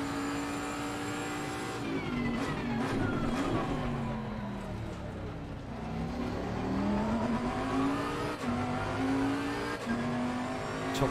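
A Bentley race car in Assetto Corsa Competizione at Suzuka roars loud and close, its engine rising and falling through gear changes, with occasional tyre squeal, alone with no talk.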